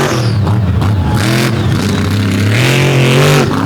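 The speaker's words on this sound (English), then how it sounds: "Ripping off a donut, going wherever the truck sends him." A race truck engine revs hard and loud while spinning a donut at a dirt track event, its roaring pitch rising and falling continuously throughout.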